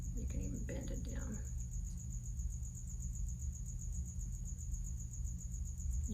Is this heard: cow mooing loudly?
no